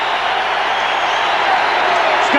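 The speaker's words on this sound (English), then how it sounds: "The capacity crowd on its feet." A capacity basketball arena crowd on its feet during a 1989 Bulls–Lakers game, a loud steady roar of cheering and shouting that fills the space without a break.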